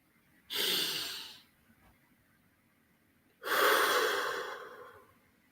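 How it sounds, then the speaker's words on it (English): Two slow, deep breaths, each a long airy inhale-exhale rush, separated by a short quiet pause, close and clear with no talking. "Practice deep breathing deeply."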